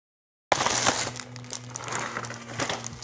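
A rolled black dashboard mat for a kei truck is unwrapped, its packaging giving a close crinkling and crumpling rustle that starts abruptly and continues unevenly, with small crackles and a faint low hum underneath.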